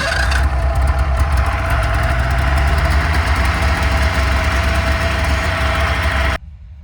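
A snowmobile engine runs steadily at a fast idle after a new battery is fitted, a loud close drone with a constant hum, then it cuts off abruptly near the end, leaving quiet.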